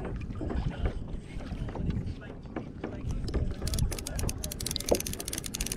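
A kayak towed through open water by a hooked big thresher shark, with steady rushing water and wind noise close to the microphone and splashing throughout, while people talk excitedly over it.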